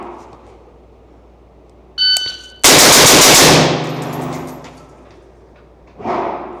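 Gun fires a loud, sharp volley of rapid shots during a ready-up shooting drill, a brief burst that rings off and then decays, with a short sharp noise before it and another after.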